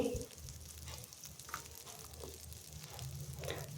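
Onion and garlic in a couple of spoons of oil in a pan give off a steady, quiet sizzle, with faint clinks and stirring scrapes on top.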